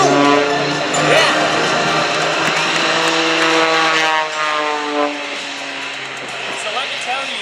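An aerobatic propeller airplane's engine drones loudly at an airshow in New England, its pitch sliding and shifting as it passes, with a drop in level midway and an announcer talking over it.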